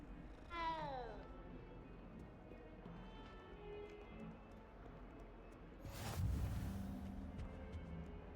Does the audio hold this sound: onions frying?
no